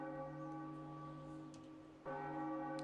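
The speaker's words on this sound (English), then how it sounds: "Ring the bell." Ancient bell in the video game The Legend of Zelda: Wind Waker HD rings with a sustained, resonant church-bell tone, a fresh loud strike near the end renewing the ringing hum.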